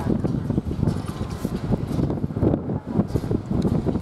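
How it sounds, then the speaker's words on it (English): Strong wind buffeting the microphone outdoors, a loud, continuous rumbling roar that gusts and dips throughout. "It's just way too windy right now to do it."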